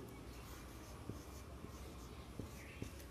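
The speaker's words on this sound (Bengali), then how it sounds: "আমার নিজের উত্তরটি লিখি" A pen scratches on paper as an answer is written out by hand, faint and close, with a few brief distinct strokes over a quiet background hiss.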